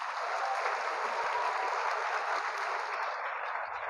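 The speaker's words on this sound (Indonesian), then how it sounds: "tepuk tangan matuhita." A church congregation applauds children who acted in a short drama during a Sunday service in Tarutung, giving steady, dense clapping that holds evenly throughout at a moderate distance without voices.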